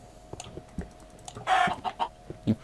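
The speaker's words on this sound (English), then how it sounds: "And there's another chicken." Chickens in the Minecraft video game give a few short clucks and squawks, close and clear, over soft clicking and a faint steady hum.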